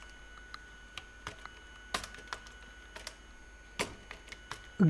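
Code being typed on a computer keyboard, quick irregular clicks and taps up close in a quiet room, with a few louder keystrokes standing out.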